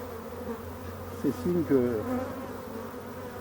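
A low, steady hum of honeybees fills a drone-laying, queenless hive being shaken out, a soft buzz that runs beneath a brief stretch of nearby speech.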